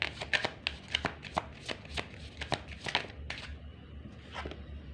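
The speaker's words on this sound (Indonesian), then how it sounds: "Saya akan tarik kartu lagi." Tarot cards being shuffled and drawn by hand, a close, crisp run of riffling flicks and slaps in an uneven rhythm, with no talk.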